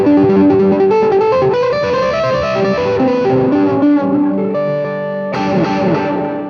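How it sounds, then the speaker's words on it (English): Electric guitar run through a specialized delay patch on a TC Electronic Nova System, playing a sustained melodic line whose repeating echoes trail behind each note, loud and steady, with a brighter restated phrase near the end. "I have a song that calls for a very specialized delay."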